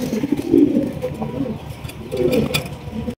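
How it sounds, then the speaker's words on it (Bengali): A pair of blackless bantinet pigeons coo close by in low, rolling calls, two clear bouts with faint rustling and background noise between them. "এখানে রয়েছে এক জোড়া ব্ল্যাকলেস বন্টিনেট কবুতর"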